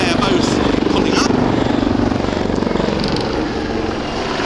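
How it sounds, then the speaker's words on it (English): A pair of Royal Navy Wildcat helicopters in a flying display pass overhead, their engines and rotors making a loud, steady roar that dominates the whole clip. "So the two Wildcats running in down the main runway, and we see the pair both pulling up"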